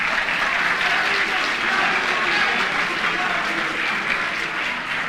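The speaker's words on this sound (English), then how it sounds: "I think you people should clap for me" A quiz-competition audience at the 2023 NSMQ claps in steady, dense applause that runs unbroken and loud for the full stretch, with faint voices mixed into the crowd.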